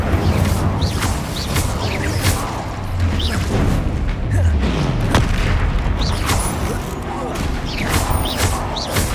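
The Incendio fire spell goes off in Hogwarts Legacy amid a dense, loud flurry of booming magical blasts and crashes that roll on without a break.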